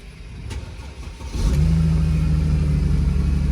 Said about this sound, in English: Vehicle start now